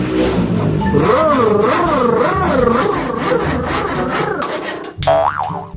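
A saw cuts a wooden piece for a table dolly slider, rasping loudly and continuously with a ringing, wavering tone from the blade, then a brief sharper scrape near the end.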